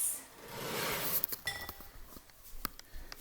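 A spoon lightly clinks and scrapes against a bowl while a flour, water and sugar slime mixture is stirred, quiet and intermittent after a soft rustle.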